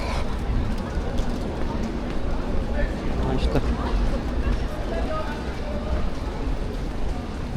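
Steady rain hiss on a city street in central Lviv, with a murmur of passersby and distant traffic blending into the continuous wash.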